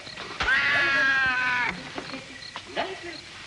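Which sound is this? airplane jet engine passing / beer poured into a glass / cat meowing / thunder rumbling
cat meowing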